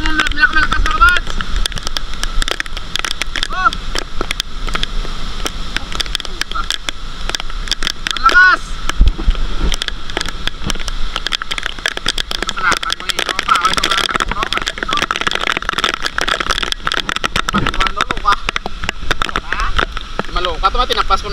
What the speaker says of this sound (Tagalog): Grabe yung hangin